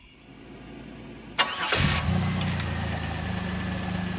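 A 4th-generation Camaro engine cranks and catches, then settles into a steady, moderately loud idle during a coolant system flush.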